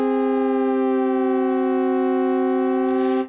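A single sustained synth note in Bitwig Studio with micro-pitch modulation, heard alone as a steady, bright tone with strong harmonics holding for about three seconds before a short noisy burst near the end.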